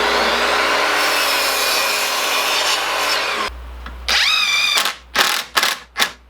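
Hand saw cutting through a 2x4 wooden board to trim it to length, first a long steady stretch of sawing, then after a pause a few separate strokes.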